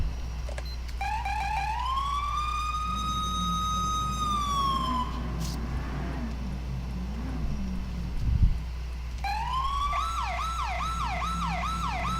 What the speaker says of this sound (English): Yeah, now that's CHP siren.